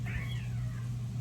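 Cat meowing underfoot in a kitchen while someone cooks: a single drawn-out, rising-and-falling meow, fairly faint, over a steady low hum of background noise.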